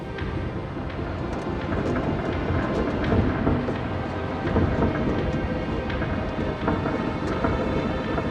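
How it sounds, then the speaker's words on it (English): A severe storm at sea striking a submarine on a northern polar expedition: a dense, continuous roar of wind and rain with heavy rumbling thunder throughout, loud and steady without pauses. "Once again, the submarine is hit by a severe storm."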